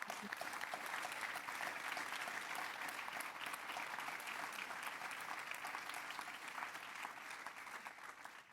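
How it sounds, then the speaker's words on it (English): An audience at a climate activism talk gives sustained applause, a broad, even roar of many hands clapping, fairly distant and faint, tapering off at the close. "This is worth every applause"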